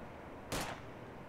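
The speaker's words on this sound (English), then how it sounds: "guy's taking shots at the heli again" A single gunshot fired at a helicopter in the video game Arma 2 DayZ, one short distant crack against a quiet background hiss.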